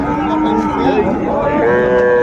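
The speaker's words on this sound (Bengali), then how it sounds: "দেখি একটু গরুগুলো দেখান তো" Cattle at a village cattle market low and moo in long drawn calls, loud and close, with a crowd murmuring behind.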